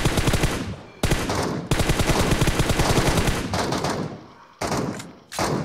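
Rapid bursts of gunfire in the mobile shooter BGMI, loud and close, with dense automatic strings broken by short gaps and a final flurry of shots.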